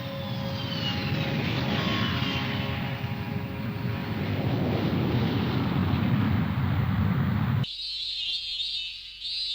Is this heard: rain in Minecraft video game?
no